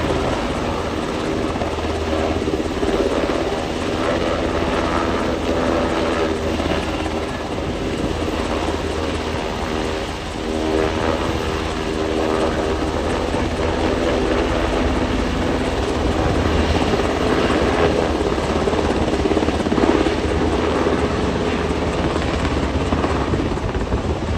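A search and rescue helicopter roars steadily and loudly throughout a demonstration at Fleet Fest 2024, its rotor thump and engine whine continuous and close, with some wind buffeting.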